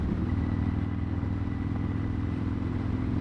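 A motorcycle riding along a coastal beach road, its steady mid-pitched engine drone and road rumble continuous and close throughout, with no voices.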